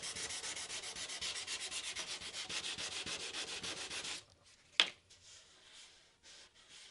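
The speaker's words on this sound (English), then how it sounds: "all your water is just to lubricate the sandpaper to keep it from clogging up" Fine-grit sandpaper wet sanding an epoxy surfboard, a steady rhythmic back-and-forth rasp of even strokes for about four seconds, then a brief knock and quiet handling sounds.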